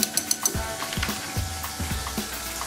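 A spoon stirs yogurt briskly into a ladle of hot potato soup broth, giving a steady wet sizzling swish with rhythmic scraping clinks against the bowl, close and moderately quiet.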